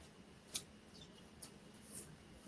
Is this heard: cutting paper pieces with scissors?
yes